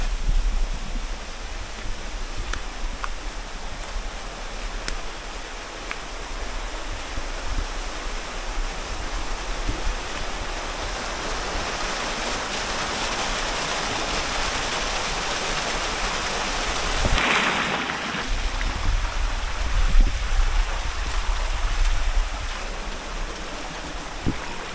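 Creek water flowing steadily, a constant broadband rushing hiss at moderate level, growing a little stronger and splashier near the end.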